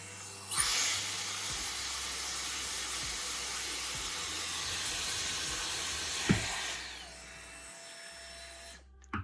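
A roughly 1600-watt hair dryer, powered from a Litheli Eclair home power bank, blows with a steady, loud broadband roar for several seconds, then switches off and winds down, leaving near silence.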